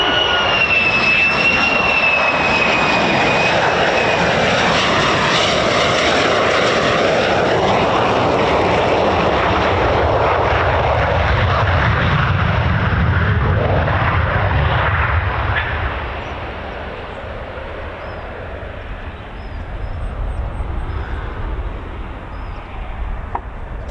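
USAF F-15E Strike Eagle and F-35A fighter jets of the 48th Fighter Wing at RAF Lakenheath fly over low as a flight of four, a loud sustained jet roar that swells, dips and returns without speech.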